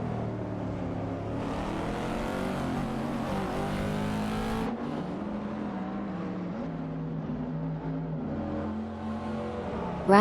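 Race cars roar and accelerate steadily through an endurance race, a dense, continuous engine drone with shifting pitch and a brief drop in intensity midway, no voices present.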